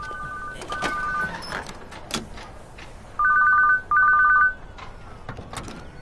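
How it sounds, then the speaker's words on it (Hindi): A mobile phone rings with two short bursts of a bright electronic two-tone ring, close and clear against a noisy background with scattered clicks and knocks. "घंटी जा रही है भाई।"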